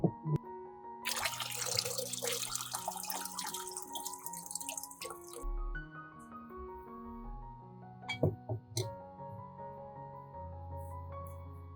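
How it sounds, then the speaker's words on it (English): Soaking water poured out of a jar of fresh tomatoes, a close splashing pour that runs for several seconds and then gives way to scattered drips and light clinks. "After 15 minutes, pour out the water."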